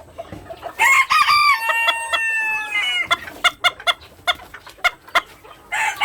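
A young bantam rooster (stag) crows in a long, wavering call close by, followed by a run of sharp, rhythmic clucks and short squawks from the flock.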